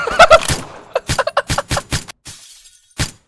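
Gunshots in the One Armed Robber heist game: a handful of sharp, separate cracks spaced irregularly over a few seconds, loud and close, with a quiet stretch before one last shot.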